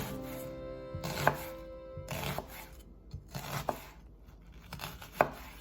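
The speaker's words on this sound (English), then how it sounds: "slice the onion, so I'm going to keep it in these like half moon shapes, claw grip" A red onion is sliced into half-moon shapes on a cutting board, giving a steady series of crisp knife chops about once a second, close and clear, with no talking.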